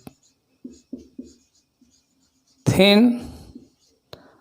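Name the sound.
writing a chemistry formula on a board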